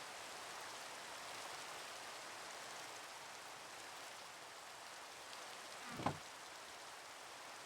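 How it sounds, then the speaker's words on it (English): Steady soft rainfall in the video game Minecraft, an even hiss of drops with no thunder, holding level throughout apart from one brief low thump near the end. "Oh yeah, and it starts to rain."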